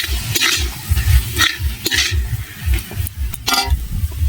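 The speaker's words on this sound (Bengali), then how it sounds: "দিয়ে দেবো হলুদ, ভালো করে ফের নেড়ে চেড়ে নেব।" Tomato and turmeric being stirred in a frying pan, a spoon scraping and clinking against the metal in repeated strokes over a steady close sizzle, with no talking.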